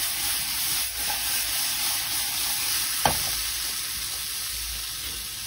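Potatoes browning in a frying pan give a steady, close sizzle and crackle throughout, with a brief clatter partway through as the pan is shaken.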